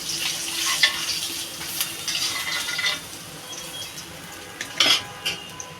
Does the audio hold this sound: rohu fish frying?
yes